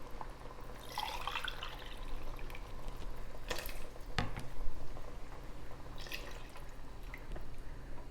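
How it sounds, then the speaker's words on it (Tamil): Water trickles and splashes into a cooking pot of mutton biryani in uneven bursts, with a few sharper drips and clatters over a low background hum. "இப்போ தண்ணி ஆட் பண்ணிக்கலாம்."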